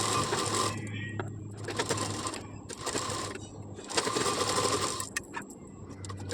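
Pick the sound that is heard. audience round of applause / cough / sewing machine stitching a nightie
sewing machine stitching a nightie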